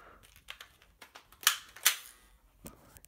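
Nerf blaster priming handle being pulled back, a series of small plastic clicks and clacks close up, with two sharper snaps standing out, no talking.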